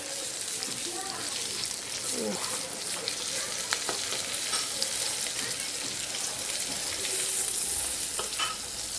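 Eggplant fries in hot oil with a continuous soft sizzle and crackle, joined by occasional stirring and faint utensil sounds in a home kitchen, as voices murmur in the background.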